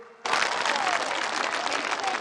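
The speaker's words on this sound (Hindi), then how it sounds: "एक बार जोरदार तालियों से इन लखपति दीदियों का सम्मान कीजिए" Large audience at a political rally in Assam breaks into loud, sustained applause that starts abruptly and continues steadily.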